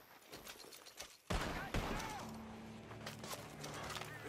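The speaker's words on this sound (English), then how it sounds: "The gunshots are coming from that barn!" Gunfire from the video game Red Dead Redemption 2, with a couple of sharp, loud shots followed by scattered distant rapid fire over a noisy background of game ambience.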